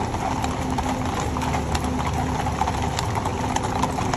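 Hooves of Republican Guard horses clip-clopping at a walk during a 2024 parade, a steady, dense patter of hoofbeats over a constant crowd and street din.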